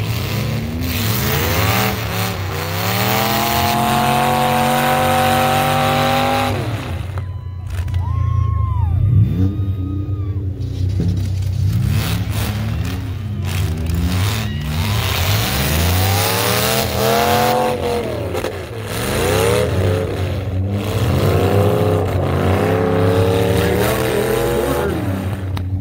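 Cars in a full-size demolition derby heat at the Gravenhurst 2024 event: engines rev and whine continuously, rising and falling loudly with overlapping pitches, plus bursts of grinding and scraping, heard at a distance across an open arena.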